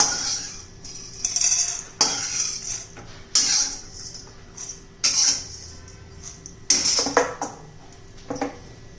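Popped jowar (sorghum) puffs for a Nag Panchami offering are tipped into a metal vessel, with repeated rattling clinks and scraping bursts at irregular intervals, close and moderately loud.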